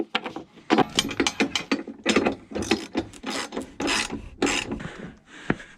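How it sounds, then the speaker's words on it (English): A ratchet wrench tightens a fitting onto a pipe, sounding as close, rapid bursts of clicking and rasping strokes in an irregular rhythm, with no talk. "So we're gonna go ahead, get this guy tightened on down."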